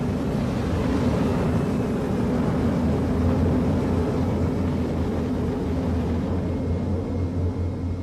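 A Star Citizen spaceship's afterburner roars as a loud, steady, close rumble that holds for the whole stretch, with no talk.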